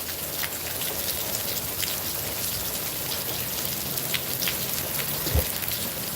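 Rain falls steadily outdoors, a dense even hiss of drops hitting surfaces with scattered louder splats, near and continuous with no voices.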